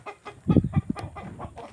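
Chickens at a highland hometown cluck in a quick, close run of short calls, with softer clucks trailing behind.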